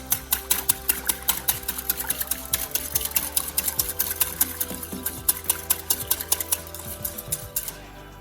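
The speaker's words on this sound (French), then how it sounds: "Je vais rajouter un petit peu d'eau et fouetter énergétiquement pour éviter la formation de grumeaux" A whisk beats a flour and water mixture in a bowl for Moroccan harira soup, a fast, steady clatter of rhythmic metallic strokes close up, continuing without pause.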